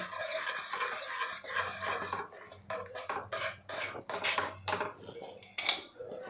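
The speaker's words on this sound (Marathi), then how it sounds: "यामध्ये आपण जी भगर मिक्सरला बारीक केलेली ती आपल्याला थोडी थोडी घालून घ्यायची आहे बघा अशा पद्धतीने आणि लगेच मिक्स करत जायचं आहे" Ground millet flour being stirred into boiling water in a pot, with steady scraping and rasping strokes of a spoon against the vessel, close and fairly loud, continuous at first then in short bursts.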